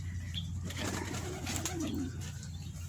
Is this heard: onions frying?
no